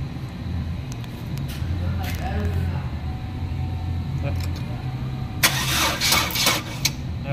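A Chevrolet Cruze engine cranks repeatedly without starting, a steady mid-pitched starter churn running for several seconds before some sharper clanks and rattles near the end.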